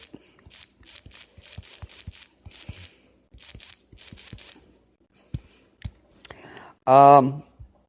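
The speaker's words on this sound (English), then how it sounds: "Okay, I'm typing, guys, sorry." Rapid clusters of keyboard key clicks tap away in bursts, close and crisp, ending with a short vocal sound.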